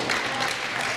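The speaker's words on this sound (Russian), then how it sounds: "Аплодисменты." Audience applause in an arena at a pairs figure skating championship, steady dense clapping from a large crowd, even and continuous throughout.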